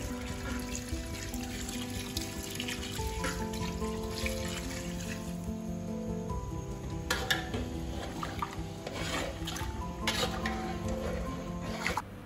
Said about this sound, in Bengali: আমি এখন চিকেনগুলো দিয়ে দিচ্ছি।